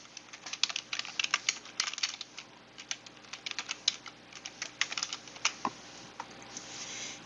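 Rapid, uneven clatter of fingers typing on a computer keyboard while entering an employee's name into an admin form, close and steady with short bursts of keystrokes and no talking.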